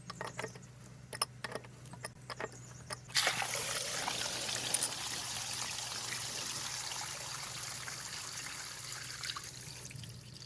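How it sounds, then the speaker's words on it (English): Water draining from the bottom drain plug of a Pentair pool filter: after a few faint clicks and knocks, a steady hissing trickle and pour begins and continues close and even, with no talking. "Open the drain plug on the bottom and allow the water to drain."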